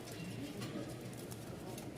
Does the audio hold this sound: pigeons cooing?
yes